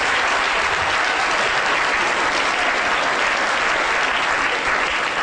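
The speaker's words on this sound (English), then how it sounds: "Round of applause" Dense, loud, sustained applause from a lecture audience, an even wash of many hands clapping throughout with no talk over it.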